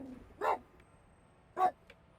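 A French bulldog in a video game dating sim gives two short, sharp barks about a second apart, clear and isolated against near silence.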